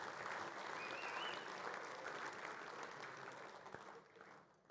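A dense wash of applause from a large audience at a football league medal night, honouring the Chandler medallist, steady and distant, fading near the end.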